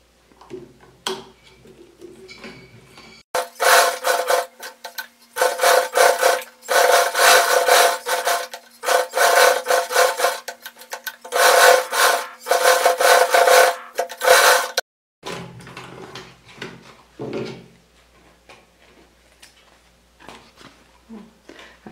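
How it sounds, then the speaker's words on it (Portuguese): A sewing machine stitches a homemade pencil case, running in several steady bursts of rapid mechanical chatter separated by brief pauses, with quieter handling noises before and after. "Aí agora eu vou passar uma costurinha."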